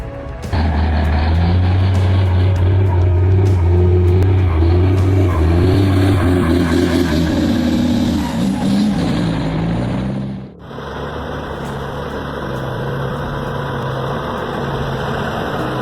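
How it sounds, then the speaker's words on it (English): A heavily loaded logging truck's engine roars loudly and steadily in a forest, with a deep low rumble that drops briefly near the ten-second mark before rising again to a sustained drone. "The roar of the engine echoed throughout the forest, tearing apart the silence, signaling the release of extraordinary power."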